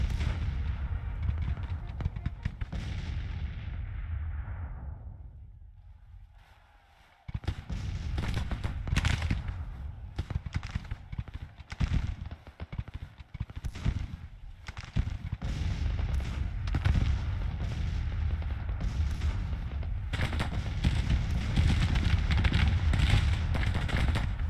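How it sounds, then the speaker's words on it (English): Counter-battery artillery in the Grand Tactician video game sounds as a dense, continuous rumble of booming cannon fire. After a brief lull the volleys return, loud and overlapping. "The orders for counter battery fire,"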